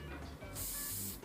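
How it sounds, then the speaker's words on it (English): Hairspray hisses in a steady burst onto a styled fringe during hair setting, a close, bright spray of about half a second amid quiet handling sounds. "I give it a spray"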